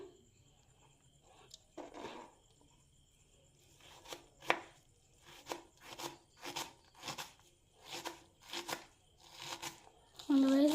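A knife chops vegetables finely for an oats omelette, with about a dozen crisp, regular chopping strikes on a board that grow quicker and steadier, fairly close and fairly quiet.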